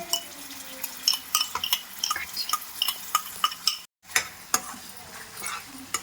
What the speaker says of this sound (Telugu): చిల్లీస్ వేసి మళ్ళీ టమాటా, కాజు పేస్ట్ వేసి పచ్చివాసన పోయే వరకు వేయించుకోవాలి, ఉడకనివ్వాలి.